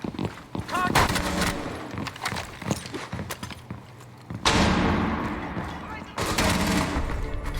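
SMG-12 firing in Rainbow Six Siege, a high-recoil secondary weapon, heard as loud rapid bursts separated by pauses, mixed with footsteps and a voice talking.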